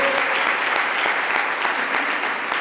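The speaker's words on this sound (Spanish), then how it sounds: "Den un fuerte aplauso al Señor." A church congregation at a Spanish-language sermon bursts into strong applause for the Lord, a dense, continuous roar of many hands clapping together at close range and even loudness throughout.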